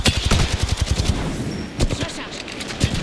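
Rapid automatic gunfire in a shooter video game, a close burst of evenly spaced shots, then a short pause and a few more shots, loud and dominant throughout.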